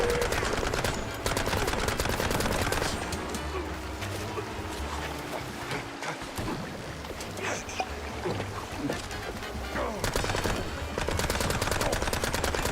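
Video game gunfire crackles in dense bursts and scattered shots across the whole stretch, fairly loud, with a brief lull midway and heavier firing at the start and end.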